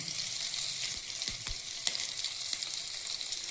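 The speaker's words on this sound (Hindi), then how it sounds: "अब इसका हम तड़का लगा लेते हैं।" Mustard seeds, green chilli and curry leaves crackle and sizzle steadily in hot oil for tempering, a dense hiss punctuated by occasional pops and the clink of a utensil stirring the pan.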